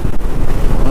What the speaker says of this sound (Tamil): அந்த பக்கம் இருக்கிற காற்று தான் அடிச்சிட்ருக்கு.